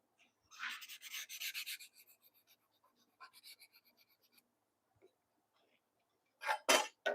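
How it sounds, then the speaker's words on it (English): A small hand sander fitted with 220-grit sandpaper rubs across cherry wood in a quick run of rasping strokes, then a few softer passes, a pause and a final louder burst. "This is a 220 sandpaper that's on this little hand sander."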